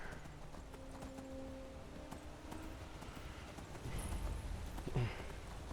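Horse hooves clip-clop at a steady walking pace as a carriage moves along in Skyrim, moderately close over a low rumbling game ambience, with no talking.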